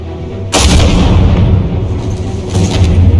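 A gunshot from the Batman Telltale Series video game, a sudden loud booming blast that rings out and fades, followed by a second, fainter boom near the end of the clip.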